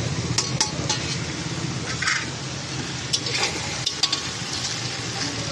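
Vegetable stalks being stirred and fried in a pan, with a steady sizzle and scattered scraping and clinking of the spatula against the pan, close and continuous.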